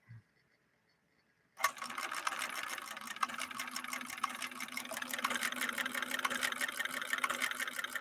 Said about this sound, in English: So that is our basting function right there.